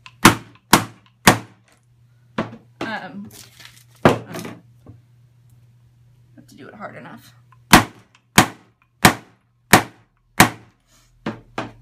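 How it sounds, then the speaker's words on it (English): Hammer blows strike a leather punch through faux capiz shell sheets, sharp isolated bangs in quick runs of several evenly spaced hits, with a person talking in the pauses between them. "And then you use like a hammer or a maul,"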